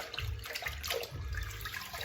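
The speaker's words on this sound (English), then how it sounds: "Let me rinse that rag out." Water splashes and trickles as a wet rag is rinsed out in a sink, a steady close wash of running and sloshing liquid with no talk over it.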